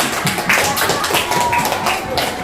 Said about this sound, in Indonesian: Boleh tepuk tangan untuk buatan.